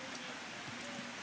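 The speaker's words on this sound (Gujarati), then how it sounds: "એક સાઈડ વરસાદે ચાલુ છે" Rain falling steadily outside during a monsoon shower, a soft, continuous hiss of drops on surfaces heard alone and fairly faint.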